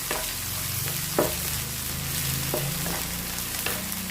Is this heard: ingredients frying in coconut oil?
yes